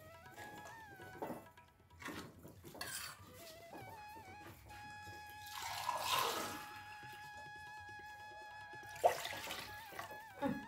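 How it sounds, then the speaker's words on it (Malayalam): Water is poured into a cooking pan of fish curry in a home kitchen, making soft splashing and trickling bursts with a light clink of cookware under a background melody. "ഇനി ആവശ്യത്തിനുള്ള വെള്ളം കൂടെ ഒഴിച്ച് കൊടുക്കുക."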